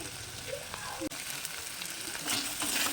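Chicken bun filling being stirred in a pan on a gas stove, a steady soft sizzle of frying with light scraping and stirring strokes throughout, close and fairly quiet, with no talking.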